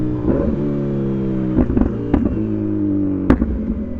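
A Brutale 1000RR inline-four motorcycle with a full titanium Arrow exhaust idles with a steady low rumble, punctuated by several sharp throttle blips that rev up briefly and fall back.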